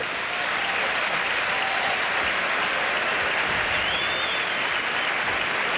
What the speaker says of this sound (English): Fans are applauding them for going back out there, Dick.